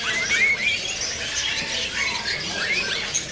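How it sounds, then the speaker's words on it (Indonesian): A jalak kebo (buffalo myna) at a bird seller's stall gives a run of shrill, scratchy squawks and squeals, steady and fairly close, with no talking over it. "Ini ada burung jalak"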